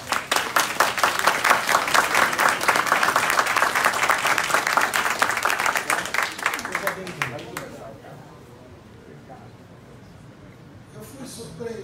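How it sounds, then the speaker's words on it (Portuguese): Conference audience at a rabbinical event applauding a rabbi as he is introduced: loud, full clapping for several seconds that thins out, followed by quieter room noise and faint talk. "Vamos aplaudir."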